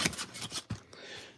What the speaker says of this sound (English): We'll snip this.